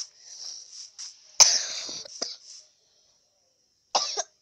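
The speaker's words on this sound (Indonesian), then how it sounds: "saya tadi batuk" A single sharp cough from an adult man outdoors in a village setting, followed by a few quieter throat sounds, then another short cough burst after a pause, with no talking over it.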